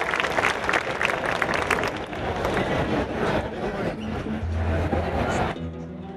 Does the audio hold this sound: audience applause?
yes